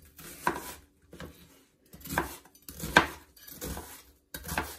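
Knife chops through an onion on a cutting board in short irregular bursts, a few quick strikes at a time with pauses between, close and fairly quiet.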